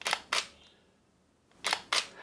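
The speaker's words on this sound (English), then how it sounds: "Now listen to the difference with a slow shutter speed." A single-lens reflex camera shutter fires twice at a slow 1/10 second speed. Each release is a crisp, close double click, the two clicks spaced a fraction of a second apart, with quiet between the two releases.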